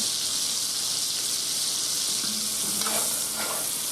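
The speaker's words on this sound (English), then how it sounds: "you can start basting your pork chops" Pork chops sizzle loudly in a pan with melted butter, a continuous bright frying hiss broken by soft scraping and spooning sounds as the butter is basted over them, with no talk.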